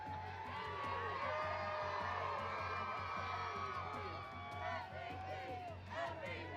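Eagles fans cheer and whoop in a dense, steady crowd roar with scattered shouts, while a voice talks over the din.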